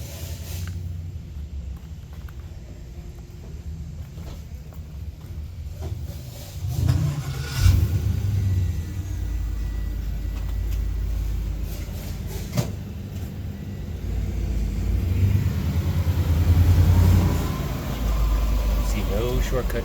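A restored 1967 Pontiac GTO with a 389 V8, dual four-barrel carburetors, long-tube headers, HEI ignition and a four-speed rumbles at a low idle, swelling into deeper revs partway through and again near the end, with talking over it.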